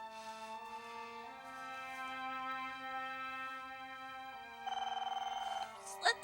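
A telephone rings in a quiet home, a steady electronic ring tone that repeats and swells louder near the end, followed by a brief click.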